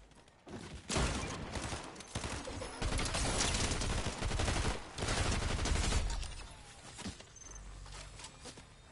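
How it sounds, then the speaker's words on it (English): Sustained video game gunfire: fast automatic bursts and volleys pile up across several seconds, then thin out at the end, with no one talking over them. "Are you shooting?"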